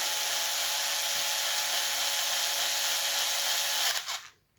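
A power driver set to its lowest torque setting drives bolts into the plastic rear differential case of a Traxxas X-Maxx, producing a steady high motor whine that holds for about four seconds and then stops abruptly.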